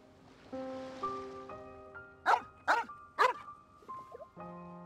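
A puppy in the video game Genshin Impact lets out three quick, sharp barks over a sustained musical background, fairly close and clear, with no talking.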